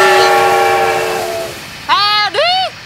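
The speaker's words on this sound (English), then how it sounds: "this is an old-fashioned steam-powered train" An old-fashioned steam-powered train rumbles along, then sounds two loud, rising whistle blasts in quick succession near the end over steady mechanical noise.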